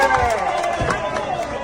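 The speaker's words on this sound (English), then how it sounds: "Everyone's cheering." Crowd cheering from a played video clip, a loud continuous roar of voices with a few thumping bursts mixed in, sustained throughout.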